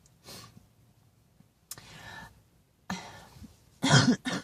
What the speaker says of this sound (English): Sorry, still coughing a lot.